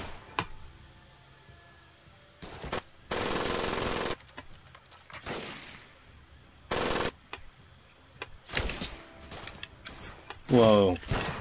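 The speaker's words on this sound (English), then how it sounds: "Most people die when they get shot with heavy machine guns." Heavy machine gun fire in the video game Medal of Honor: Pacific Assault, during a Guadalcanal mission, arrives in scattered rattling bursts of varying length with quieter gaps between them.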